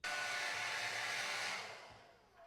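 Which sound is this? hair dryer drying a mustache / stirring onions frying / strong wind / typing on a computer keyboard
hair dryer drying a mustache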